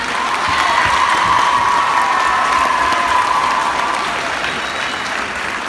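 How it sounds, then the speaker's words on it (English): A school gym crowd at a state championship cross country pep assembly claps loudly for several seconds, a dense, steady wave of applause with faint cheering mixed in. "Give them a great round of applause."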